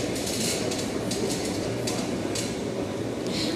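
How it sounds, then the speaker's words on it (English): Sydney Trains 4-car Oscar set pulling into platform 2, a Bondi Junction service returning from Kiama, with a steady low rumble and faint rhythmic wheel clicks, moderately quiet and continuous with no talk. "the next Bondi Junction service to arrive onto platform number 2 should be a 4-car Oscar returning from Kiama"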